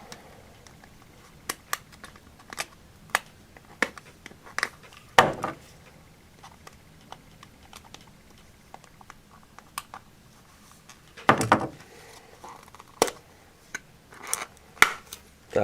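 A taped flap on a mailed package of PSA graded cards is cut and pulled open, giving scattered small clicks and two louder, rough tearing bursts against a quiet room, with no talking.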